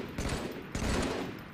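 Sustained automatic gunfire from a Halo firefight in Red vs. Blue machinima, rapid overlapping bursts filling the moment, with a second heavy volley kicking in partway through.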